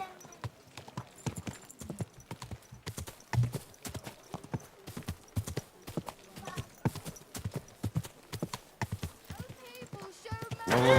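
Horse hooves clip-clop in Kingdom Come: Deliverance 2 as a steady walking rhythm of close, distinct hoofbeats, with occasional soft voices and a brief whinny-like sound near the end.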